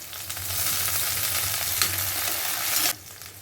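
Small sambar onions and a sprig of curry leaves fry in hot oil in a pan, giving a steady loud sizzle with faint stirring scrapes that drops off abruptly near the end.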